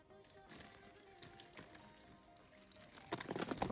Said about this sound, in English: I'm just gonna pour some jugs of tepid water on and let it expand in the bag